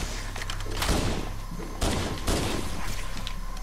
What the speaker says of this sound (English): Still doesn't protect them from a freaking pistol shot to the face